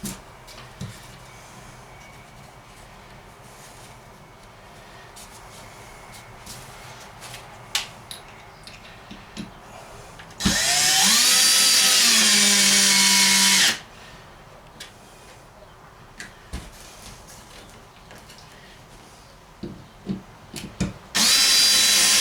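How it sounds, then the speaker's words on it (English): A power drill pre-drills wood for a travel trailer's front bench seat: one loud whining burst of about three seconds that rises in pitch as the motor spins up, set between scattered clicks and handling knocks. "you want to pre-drill those without breaking your freaking drill"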